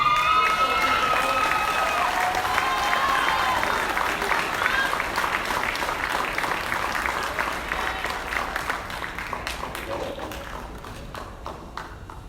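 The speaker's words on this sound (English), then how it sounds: "let's give a round of applause for Clinton Young." Banquet audience applauds Clinton Young at a Future Champions hall of fame event, a dense sustained clapping crowd with some cheering voices, gradually fading toward the end.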